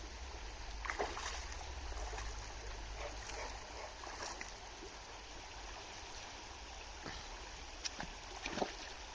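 The Prut, a mountain river at Yaremche, flows in a steady broadband rush with a soft low rumble, joined by a few brief splashes and faint knocks near the end. No one speaks.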